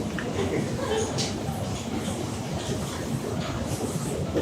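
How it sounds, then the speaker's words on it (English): Steady rumbling train carriage noise on a ride home in Melbourne, loud and continuous throughout with faint murmuring voices mixed in. "Taking the train home."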